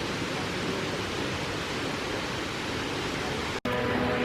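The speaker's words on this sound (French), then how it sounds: "il y a la succession de cascades cachées par les arbres." A waterfall in Bali, a series of cascades hidden among trees, gives a steady, even rushing roar that fills the whole clip without any speech, briefly cut by a short dropout near the end.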